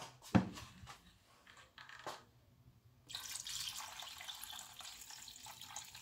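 Water poured into an Ariete multicooker for Moroccan harira soup: a few soft knocks, then a steady close rushing pour that runs on for about three seconds.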